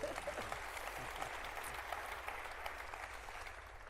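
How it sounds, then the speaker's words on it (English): A mayors' forum audience gives a continuous round of applause, even and fairly quiet throughout, with faint murmuring mixed in. "Round of applause, all great choices."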